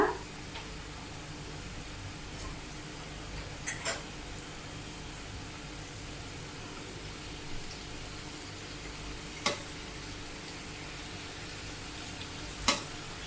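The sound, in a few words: stirring and frying jaggery kommulu snacks in a pan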